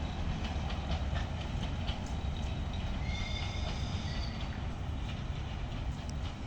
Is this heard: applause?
no